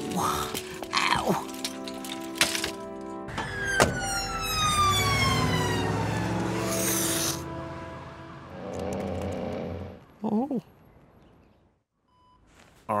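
Cartoon ambulance siren in a Mr Bean animated episode, a loud wailing tone that sweeps up and down several times, mixed with sharp knocks and effects, ending in short bursts and silence.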